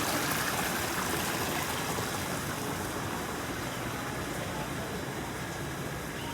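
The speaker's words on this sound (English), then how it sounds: "Waterfall." An indoor waterfall inside the glass pyramid of the Muttart Conservatory rushes and splashes in a steady, even wash of falling water that continues unchanged throughout.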